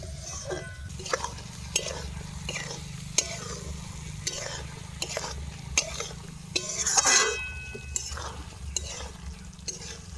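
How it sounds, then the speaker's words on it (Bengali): Ground spice paste sizzles with chicken liver in a pan in a tribal family's kitchen, a steady frying hiss over a low hum, with regular spoon knocks and one louder burst of sizzling near the end. "হ্যাঁ মশলা বাটা দিয়ে দিছি।"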